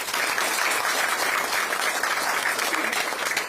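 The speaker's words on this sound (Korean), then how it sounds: "박수 한번 드리시죠" Short, dense round of crowd applause at an outdoor Democratic Party campaign rally in Yeonggwang, many hands clapping together at steady volume.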